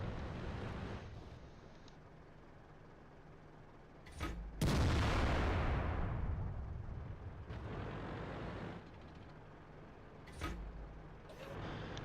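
Tank cannon fire in World of Tanks, with shots from an AT-8 tank destroyer: a loud close blast with a long decaying roar, followed by several fainter distant gunshots over a steady engine rumble.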